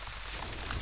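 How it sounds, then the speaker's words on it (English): Rain falls steadily in the Valheim video game, a dense continuous hiss of drops on surfaces, close and even for under a second with no talk over it. "Oh no, it's raining."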